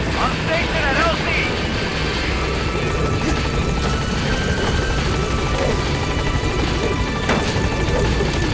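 Helicopter rotor chop and engine roar from the Metal Gear Solid 5 game, a transport chopper arriving at a landing zone, loud and steady throughout, with a voice talking over it.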